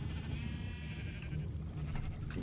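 Sheep on an automatic Minecraft wool farm give a few bleats over a steady low background, moderately loud with no one talking.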